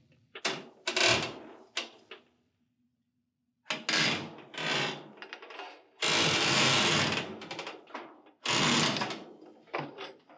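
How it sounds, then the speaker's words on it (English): A torsion spring on an EZ Set two-spring garage door conversion being slid onto the door shaft, heard as repeated metallic scraping and clanking bursts in close, irregular clusters separated by brief pauses. "slide the other spring on"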